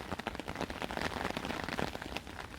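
Overnight rain patters on a hammock tarp, a faint, dense crackle of drops that continues steadily throughout.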